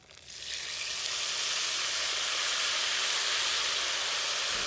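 Tamarind extract hits hot seasoning in a pan for temple-style puliyodharai, bursting into a loud, sustained sizzle that swells within the first second and keeps hissing steadily, with no voices.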